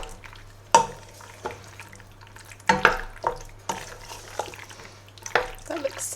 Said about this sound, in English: Goes the pasta, and let's give that a little mix.